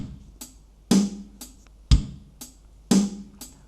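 An acoustic guitar strums an even, steady straight eighth-note rhythm, with alternating stronger and lighter strokes evenly spaced, close and moderately loud, no voices.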